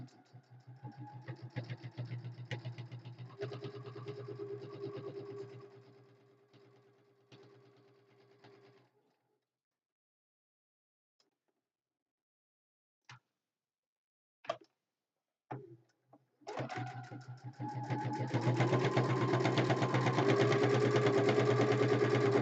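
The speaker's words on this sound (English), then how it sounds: "The sewing machine works so much better if you talk nicely to it." A sewing machine runs in steady mechanical bursts with a fast repetitive whir, then stops; after a pause with a few clicks, the motor starts again louder and keeps going.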